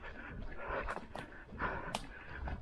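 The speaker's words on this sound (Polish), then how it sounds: "Psy cały czas za nią idą." Hunting dogs chase a deer through woodland, heard as faint yelps and whimpers over rustling and footsteps of a running hunter, somewhat distant.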